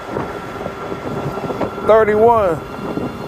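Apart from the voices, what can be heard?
wind noise while riding an electric bike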